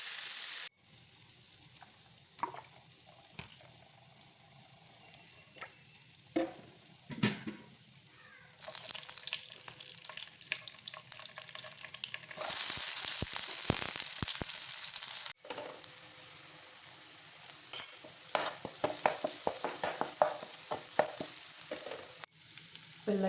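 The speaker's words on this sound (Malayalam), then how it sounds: "കുഞ്ഞിച്ചാള വറുക്കാൻ വെക്കണേണ്." Small sardines fry in a pan, a sizzling crackle that comes and goes, with stirring and clattering bursts and a loud spitting surge partway through, no voices.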